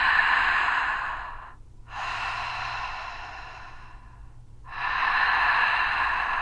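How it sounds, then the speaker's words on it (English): Two long, hissing open-mouth breaths from a breathwork exercise, each drawn out over a couple of seconds with a short pause between, close and fairly loud with no talking. "We are going to be breathing through an open mouth."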